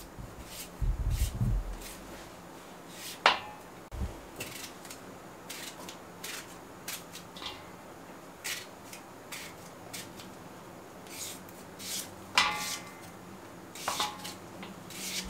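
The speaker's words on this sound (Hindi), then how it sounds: "इसको इस तरीके से मैं सारे आलू काट लूं" A knife cuts potatoes lengthwise into strips for crispy lachha pakoras, giving faint, sporadic scraping strokes and sharp clicks against a board, with quiet pauses between cuts.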